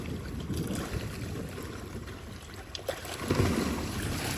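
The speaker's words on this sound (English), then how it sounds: "You can hear the water start to come through." Well water rushing through a pump flow tester, a steady broad wash of flowing water with a sloshing surge near the end, fairly close and continuous.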